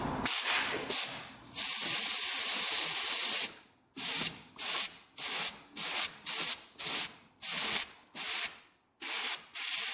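Liquid sprayed up into a badly clogged fuel petcock in repeated short bursts, each a loud hissing squirt separated by brief pauses, close by with no talk.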